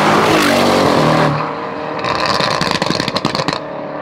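Loud exhaust roar from a rebuilt Audi RS6 GT3, a sustained heavy drone that eases off, then a run of sharp crackling pops and bangs on the overrun, close up.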